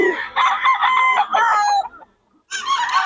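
A rooster from Pampanga crows loudly and close by, one long drawn-out call, then a brief silence before a second crow begins.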